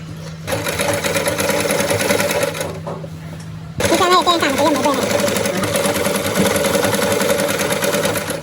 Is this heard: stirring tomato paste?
no